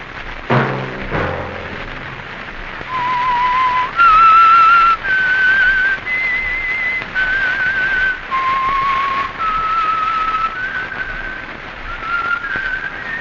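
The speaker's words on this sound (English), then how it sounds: "Let that whistle be your signal for the Signal Oil program, The Whistler" Whistled signature tune of The Whistler radio mystery show, a single clear human whistle carrying a slow, wavering melody of held notes, loud and up close, with a soft thump near the start.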